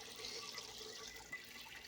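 Water from two pumps, one fitted with a filter, flows steadily in a backyard fish pond in a high-desert garden, a faint, even trickling wash with no breaks.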